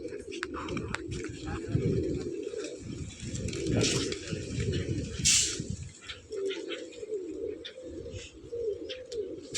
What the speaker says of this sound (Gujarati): મસ્ત મજાની કિલકારી કરે છે પક્ષીઓ.